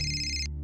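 A mobile phone ringtone chimes steadily with a bright electronic tone, then the upper notes cut off abruptly as the ringing stops, leaving a low hum.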